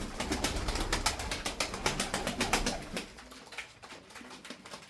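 Tumbler pigeons make soft, rhythmic sounds close by, with bursts of wing flapping and rustling; pigeons coo intermittently through the background.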